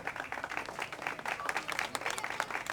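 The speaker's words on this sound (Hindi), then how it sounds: "एक बार जोरदार तालियां" An audience claps steadily in a crowded hall, dense and sustained applause with no clear speech over it.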